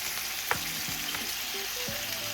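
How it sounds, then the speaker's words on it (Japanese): Mirin and soy sauce hit a hot frying pan of cheese-stuffed pork-wrapped green peppers, giving a loud, continuous sizzle with a few soft clinks of utensils close by. "ここに、味をね、加えながら、蒸し焼きにしていきます"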